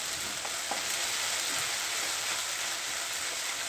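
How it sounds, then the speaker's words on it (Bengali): Ginger garlic paste frying in a pan for potato egg curry, a dense, even sizzle that crackles steadily throughout with faint stirring taps mixed in. "তারপর দিয়ে দিচ্ছি আদা রসুনের পেস্টটা। ভালো করে নেড়ে নিব এগুলো।"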